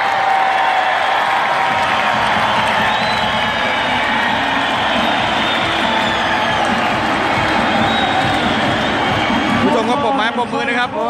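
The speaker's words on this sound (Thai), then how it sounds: "ปรบมือนะครับ" Crowd at an indoor futsal match between Thailand and Japan applauds and cheers loudly and continuously, a dense wash of clapping, shouting and whoops from the stands, with a commentator's voice talking over it.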